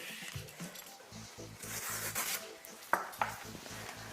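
A knife scrapes and cuts through courgette flesh around the seeds, making close, quiet rubbing and rasping strokes with a couple of sharper clicks near the end.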